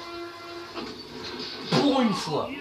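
A passing train in the video game Plants vs. Zombies rumbles with a rising whistle-like screech near the end, while a voice talks briefly over it.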